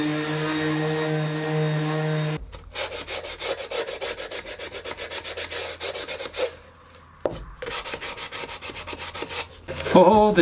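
Hand sanding of plywood with a sanding block, a steady run of rhythmic rubbing strokes close by, with a brief pause in the middle, following a short tonal hum at the start.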